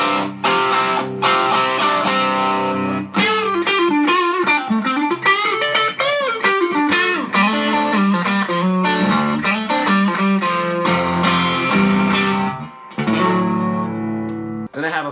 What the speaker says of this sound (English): I'm going to add a little bit more dirt using a Wampler Tumnus, which is like a Klon style overdrive